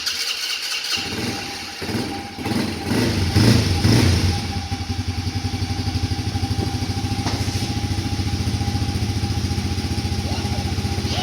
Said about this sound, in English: Remember to let off the starter as soon as it starts.